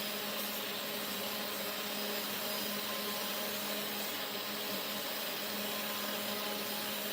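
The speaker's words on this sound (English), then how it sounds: "I'm not running the spindle at full speed" A CNC spindle running below full speed while milling a tic-tac-toe game mold, heard as a steady, even, faint whirring hiss that holds unchanged throughout with no voices.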